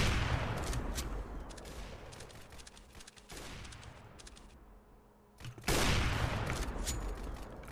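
Sustained rapid gunfire in the video game Weaponry, loud and continuous bursts with a brief lull before another heavy volley.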